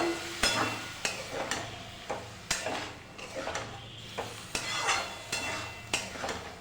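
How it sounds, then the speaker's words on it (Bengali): Pasta with masala chicken, prawns and egg being stirred in a pan after a little water is added, with a utensil repeatedly scraping and clanking against the metal at an irregular pace over a soft sizzle. "আবারও নাড়িয়ে নেবো ভালো করে"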